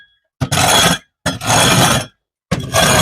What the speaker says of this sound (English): I'm going to scrape some mess off of this top of this hutch as well